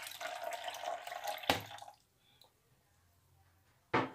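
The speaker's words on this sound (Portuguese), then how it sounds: "Nós voltamos agora para o liquidificador e vamos acrescentar mais 300 ml de água" Water being poured into a blender jar while making Swiss lemonade with condensed milk, a steady splashing pour for about a second and a half, then quiet, then a brief second splash at the end.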